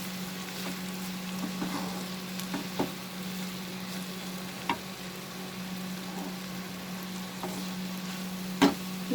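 Prawns and bitter gourd being stirred in a frying pan, a steady sizzle under a low hum, with a few sharp scrapes of the spatula, close and even.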